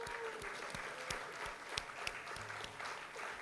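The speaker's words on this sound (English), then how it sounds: "Let's give everybody a round of applause." Crowd at a community Lunar New Year and Black History celebration clapping steadily, with individual sharp claps standing out over a moderate, sustained round of applause in an indoor space.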